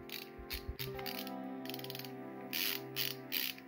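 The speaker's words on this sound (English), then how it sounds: "Let's see if we switch the ratchet." Ratchet being switched and clicked on an LTT screwdriver, a close run of quick mechanical clicks with a faint tonal hum underneath, no speech.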